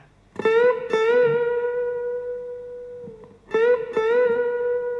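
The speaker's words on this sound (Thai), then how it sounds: "ท่อนดันสายจะได้เสียงนี้นะ" An acoustic-style guitar solo phrase with string bends: two plucked, bent notes ring and sustain with slight wavering, a short pause, then another pair of bent notes, played alone and close.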